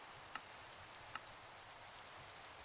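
Minecraft rainfall as a constant quiet wash of noise, broken by two brief faint ticks early on, with no voices.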